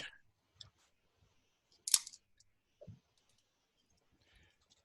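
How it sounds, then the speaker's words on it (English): Scotch tape wrapped around a balloon's mouth fitted over a plastic straw makes sparse, quiet crinkles and clicks, with one sharper tearing burst in the middle and a soft rustle near the end. "So that's where the Scotch tape comes in. And we're just going to tape it."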